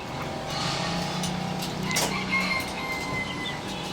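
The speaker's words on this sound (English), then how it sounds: "Clothes dryer," A constant mechanical whir and rumble of a clothes dryer running in Saigon, steady and fairly close, with faint higher tones riding over the drone.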